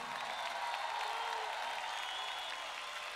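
A large arena crowd at a rock concert at Movistar Arena applauds and cheers in a dense, steady wash of clapping, heard from within the audience.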